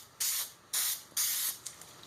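An aerosol can sprays glue onto the back of a sheet of Volara foam in three steady hissing bursts, each about half a second long, followed by a couple of short puffs, close by with no talking.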